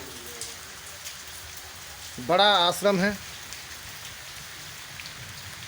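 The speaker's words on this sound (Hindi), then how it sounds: "बारिश हो रही है" Steady rain falls at an ashram, a soft continuous patter throughout, with someone speaking briefly over it midway.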